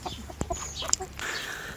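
Pekin bantam hens in a poultry yard giving a few short, close clucks spaced irregularly, with soft rustling and a brief higher squawk between them.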